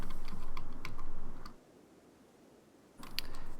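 Typing on a computer keyboard during a modded Rimworld Ideology session: rapid, close clicking keystrokes in two bursts separated by a brief quiet pause, loud and alone without speech.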